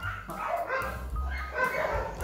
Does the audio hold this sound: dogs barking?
yes